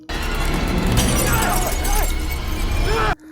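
Glass shatters as a sound effect in a horror ghost story, a bright burst of breaking shards spreading over about three seconds beneath music and narration before cutting off abruptly.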